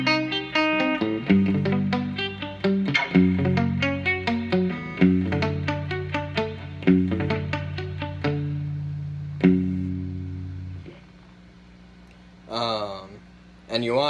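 Palm-muted electric rhythm guitar plays a riff, a steady chugging pattern of short repeated muted notes that runs alone, then a sustained chord and a brief spoken remark near the end.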